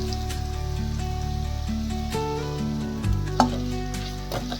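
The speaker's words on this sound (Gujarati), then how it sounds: "હવે તેમાં આપણે બધા વેજીટેબલ્સ એડ કરીશું। ટમેટા, કોબીજ, ગાજર અને કેપ્સિકમ" Tomatoes, cabbage, carrots and capsicum sizzle in a pan for chana pulao, a steady close crackling fry with a few stirring knocks and clinks, no talk.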